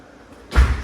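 A pool house door slams shut with a single loud, close thud after a quiet stretch, followed by a short fading rumble.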